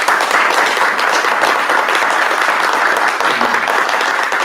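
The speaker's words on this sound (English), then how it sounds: "All right, let's give Nynne a giant applause." Dense, sustained audience applause at a Django developer conference in Copenhagen fills the whole stretch, loud and steady with no talk over it.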